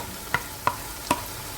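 Three sharp scraping strokes of a spatula stir red-fried onions with ginger-garlic paste in a pan for chicken biryani, spaced about a third of a second apart over a soft sizzle.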